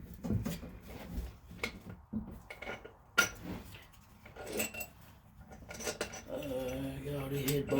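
Head bolts come out of a Fox Body engine: metallic clinks, rattles and tool clatter at close range in irregular bursts, with a rhythmic ratcheting near the end.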